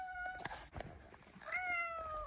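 A cat meows twice, close by, each call a drawn-out, rising and falling tone that comes over a quiet indoor background.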